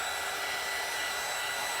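Steady close blowing of a hair dryer drying a stamped, molded deep-sea themed craft piece, an even airy hiss and motor hum with no voices.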